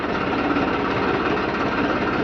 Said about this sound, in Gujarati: આ ટ્રેક્ટરની મદદ દ્વારા પવાલું ખોલવામાં આવે છે